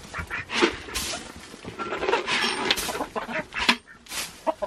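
Chickens and roosters in a farm coop on a cold morning give a busy, overlapping chorus of clucks and squawks, close and moderately loud, with no talking.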